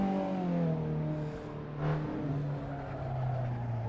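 A race car in Assetto Corsa fishtails with its tires skidding, a sustained engine drone with squealing rubber that swells and fades, heard alone and at moderate level.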